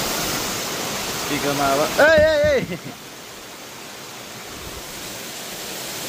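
A cold mountain stream with a small waterfall in east Nepal makes a steady, moderate rush of running water throughout, with a man's short spoken phrase briefly over it partway through.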